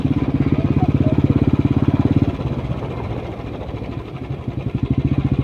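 A motorcycle rides along a village road on a trip toward Biharinath Hill. Its close, steady engine throb is loud at first, then eases to a lower, rougher putter partway through.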